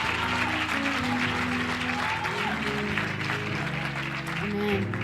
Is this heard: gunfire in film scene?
no